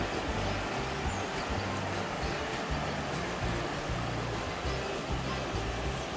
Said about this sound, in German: Ein schöner, klarer Bach geworden.